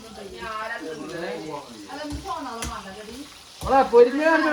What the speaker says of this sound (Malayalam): chicken പൊരിയട്ടെ chicken പൊരിയട്ടെ